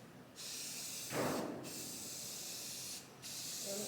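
A spray can painting shelves, giving a near hiss in three long bursts separated by brief pauses, with a soft rush of lower noise in the middle.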